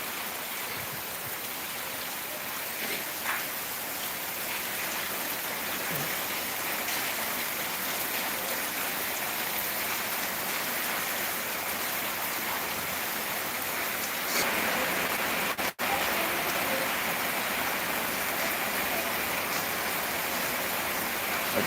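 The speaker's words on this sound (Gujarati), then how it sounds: "વરસાદ તો તમારે આવી રહ્યો છે." Steady rain pours down on a farm in Gir, a dense, even hiss that holds unbroken and fairly loud throughout, with no voices over it.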